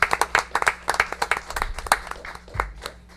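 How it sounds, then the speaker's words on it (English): A council meeting crowd gives the police chiefs a modest round of applause, scattered claps building briefly and then thinning out, with a faint voice underneath. "A little cheer for the cops."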